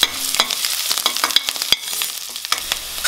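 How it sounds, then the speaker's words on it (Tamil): Finely chopped ginger, garlic and green chillies sizzle in hot oil, with sharp crackling pops and quick spatula scrapes in a busy, uneven rhythm close by. "பொடி பொடியா நறுக்கின இஞ்சி, பொடி பொடியா நறுக்கின பூண்டு, அப்புறமா பச்சை மிளகாய் எல்லாத்தையுமே போட்டு இத வதக்கணும்"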